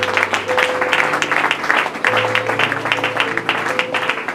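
Church congregation applauding in worship, dense rhythmic clapping sustained throughout under sustained organ-like tones, loud and close.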